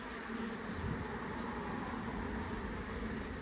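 Honey bees from a five-year-old colony being relocated from old comb hum in a dense, continuous buzz, close and steady throughout the short stretch with no voices over it.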